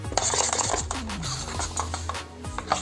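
Bajji batter being stirred in a bowl, soft irregular scraping and rubbing strokes with light clinks of a utensil, close and quiet with no voices.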